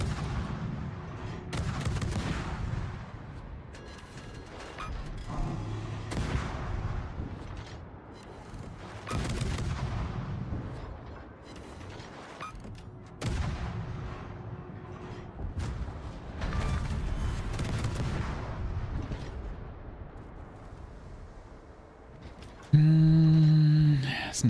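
Naval guns firing in a World of Warships battle, heavy booming blasts recurring every few seconds with rumbling tails and mechanical clanks over constant loud ship ambience.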